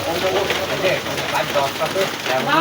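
Steady rain falls during a village football match in Bangladesh, a dense even patter that runs through the whole stretch with voices faintly underneath.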